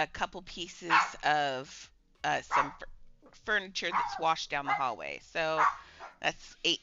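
A dog barks and yips intermittently in the background while a person talks over it nearly the whole time.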